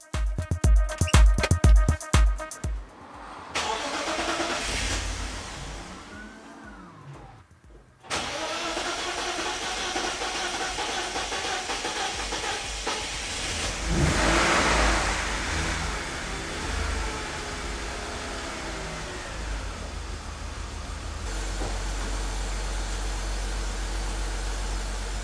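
A BMW E46 engine cranks and catches, then settles into a rough, uneven idle that runs steadily and close by, with a brief rise in revs partway through.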